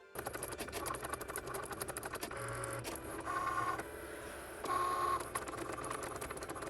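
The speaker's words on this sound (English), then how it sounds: "we just click the button on our Cricut and off we go" A Cricut machine cuts cardstock, giving quiet whirring motor runs broken by short mechanical pauses and clicks, with a faint high whine as the carriage moves.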